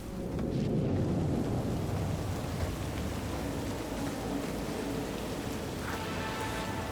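Steady rain in Night City from Cyberpunk 2077, a dense, continuous hiss of falling water with a low rumbling undertone, constant throughout and alone without talk.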